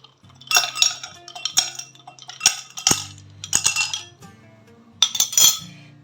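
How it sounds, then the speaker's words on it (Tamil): Ice cubes dropped into a glass for a watermelon mojito, heard as about six close, bright clinks and clatters in separate bursts with short pauses between. "இப்போ வந்து நம்ம ஐஸ் க்யூப் சேர்த்துக்கலாம்."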